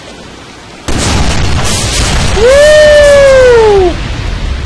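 Explosions and gunfire from the Deadpool video game, a sudden loud broadband burst that holds as a dense rumble, with a rising then falling whoosh over it and a voice shouting briefly.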